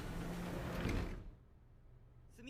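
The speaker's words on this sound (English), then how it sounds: "they're controlling the sliding glass doors." Sliding glass doors in a Gundam 00 anime scene: a loud whooshing slide that cuts off after about a second, then near-quiet with a faint electronic tone at the end.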